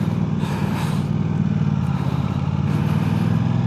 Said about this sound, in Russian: Вот это бульканье. Как будто на V2 каком-то едешь, а не на рядной двойке.